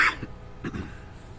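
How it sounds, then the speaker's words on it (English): A single short cough followed by a couple of throat-clearing rasps, close to the microphone and fairly loud against a quiet background. "Pardon me, I may have to cough here."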